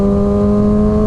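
Motorcycle engine as the clutch is eased out slowly, a loud, steady humming drone held at an even pitch throughout, close and alone with no talking.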